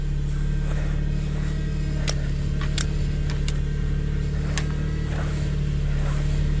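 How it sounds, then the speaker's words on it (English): A power steering pump on a 2001 Subaru Outback, just after work on the serpentine belt tensioner and pulley, runs with a steady low drone and hum. Faint clicks and ticks come through over the top. "Oh, that is an unhappy power steering pump."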